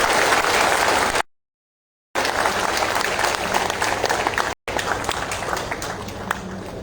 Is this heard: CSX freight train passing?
no